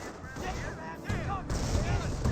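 A mortar half-track fires in a Company of Heroes match, giving dull, booming thuds amid ongoing battle noise that stays dense and rumbling underneath.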